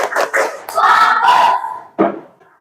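A classroom clapping chant: sharp bursts of group clapping in a quick pattern, then a sustained shout of voices, ending with one more loud clap.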